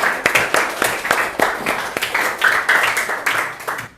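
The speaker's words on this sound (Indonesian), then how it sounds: "Berikan tepuk tangan untuk kelompok 4 ya." Classroom applause for a student group's presentation in a university teacher-training session: a small crowd claps steadily and close by, distinct claps ringing through for about four seconds.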